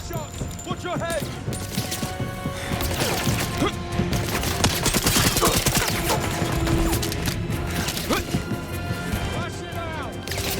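Gunfire in 007 First Light, rapid shots and sharp cracks layered over dense action noise and a music bed, loud and continuous, with a voice calling out in the mix.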